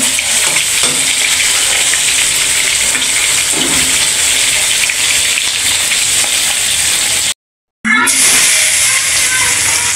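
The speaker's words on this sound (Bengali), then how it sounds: "দেখেন দুই চুলায় ভাজতেছে আপনার আপু মাছ" Chital fish frying in hot oil on two stoves, a loud continuous crackling sizzle close by, briefly cut to silence before resuming, with occasional stirring.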